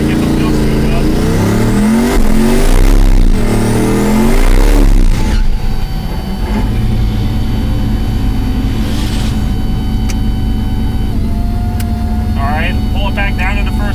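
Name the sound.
1500HP twin turbo exoskeleton drag car doing a burnout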